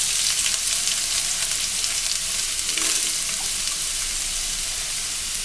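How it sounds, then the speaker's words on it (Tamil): Vegetables such as carrot, beans and capsicum stir-fry in hot oil in a pan for noodles, giving a steady, close, loud sizzle and hiss throughout with no talking. "வாங்க ஒரு பேன் வச்சுக்கலாம், எண்ணெய் ஊற்றிக்கலாம், கொஞ்சம் வெஜிடபிள்ஸ் எல்லாம் போட்டுக்கலாங்க."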